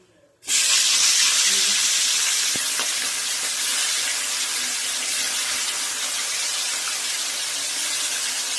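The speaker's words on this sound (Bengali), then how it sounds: "এই যে কাটা নুন হলুদ মাখিয়েছি, এবার আমি ভাজবো, কড়া করে ভেজে নেব।" Fish pieces coated in salt and turmeric drop into hot oil with a sudden loud sizzle that settles into a steady, dense crackling hiss, close by and continuous.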